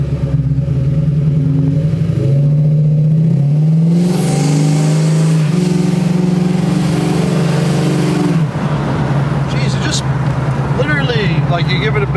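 Engine of a project car, rebuilt over seven years and back on the road, revs loudly under throttle, with a rising and falling growl up close while people talk over it.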